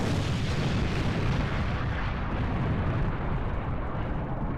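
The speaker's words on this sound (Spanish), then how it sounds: "Hubo una explosión tremenda y toda la nave espacial se sacudió" A tremendous explosion shakes an alien spaceship: a sustained, loud roaring rumble of blast and debris, dense and continuous with no pauses.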